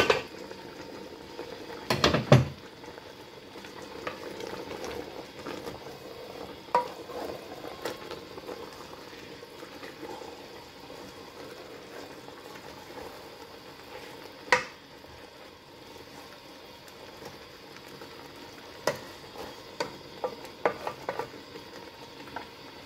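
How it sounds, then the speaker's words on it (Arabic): Meat browning in a pot for a Moroccan-style kabsa gives a steady, moderate sizzle, broken by a few sharp clinks and scrapes of a utensil against the pot. "غنغطي عليها واحد شويه نزيد تشحر"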